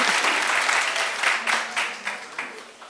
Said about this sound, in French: La présidente, ça s'applaudit quand même